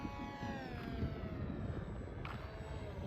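Engine of a model airplane on its first flight, a steady whining drone with shifting pitch as it passes and comes in to land, moderately distant against outdoor ambience.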